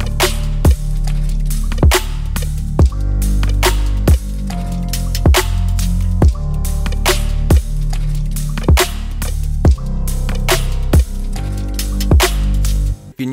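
Deep, wide, full chill bass synthesized in Ableton's Analog, playing low octave notes under a reverb-washed piano with sidechain pumping, steady rhythmic hits across the loop, loud and alone without voices.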